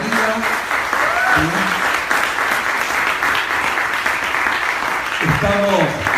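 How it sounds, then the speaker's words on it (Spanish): A church congregation gives welcome applause: steady, fairly loud clapping throughout, with voices calling out over it near the start and again at the end. "Bueno, un aplauso de bienvenida."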